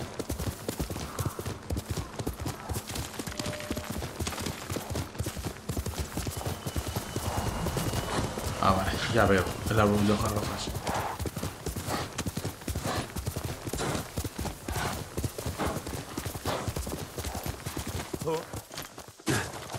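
A horse's hooves clip-clopping at a steady walk in Ghost of Tsushima, close and continuous throughout, with a brief spoken line partway through and a busier patch of rustling ambience in the middle.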